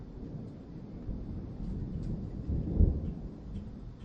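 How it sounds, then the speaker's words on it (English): Low rumbling thunder rolls through light rain outdoors in Florida, a steady deep grumble that swells toward the end over a soft constant rain hiss. "Light rain with thunder."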